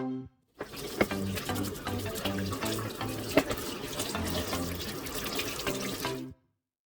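Kitchen tap running steadily over a whole leg of lamb being washed, a continuous close splashing stream with irregular drips and thuds, stopping cleanly at the end.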